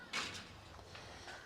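A shed door on a goat farm swung shut, giving a short scraping thud at the start followed by a few fainter knocks and rattles, fairly near with no talking over it.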